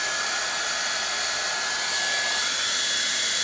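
A hair dryer blowing hand-tied hair extensions dry, a loud, steady, close airy roar with a high whine that swells slightly toward the end.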